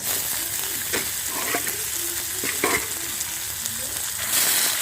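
Onion and garlic fry in a pan for red amaranth greens, producing a continuous close sizzle with several stirring scrapes and clatters at intervals, the hiss swelling slightly toward the end.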